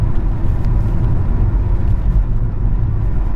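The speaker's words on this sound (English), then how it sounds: "being able to make this car run now and go down this road" A 1992 Audi 80 with about 5,000 miles drives along a road, its engine and tyre rumble a loud, steady low drone heard from inside the car, with no voices.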